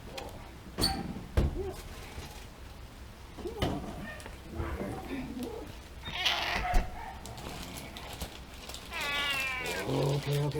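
A cat meows indoors on a rainy day, with several cries and mews spread across the stretch, some fairly close, mixed with room noise and a person talking now and then.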